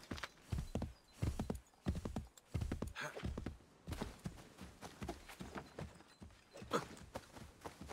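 Rhythmic hoofbeats of a horse trotting in the video game Assassin's Creed III, with occasional faint neighs, quiet and steady throughout.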